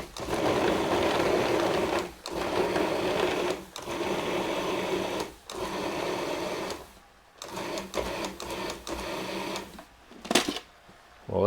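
Food processor pulsing chunks of butter into small pieces for an apple and banana crumble, a series of short motor bursts of a second or two separated by brief pauses, close and moderately loud.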